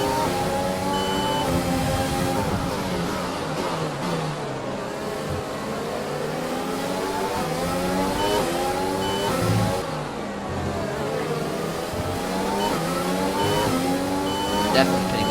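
Formula 1 cars in F1 2020 scream past in a close pack, high whining engines overlapping and shifting pitch as they jostle for position, steady and loud throughout.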